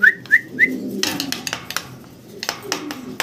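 Young Mundian pigeon calling, three short quick notes close by at the start, followed by light clattering and rustling noises.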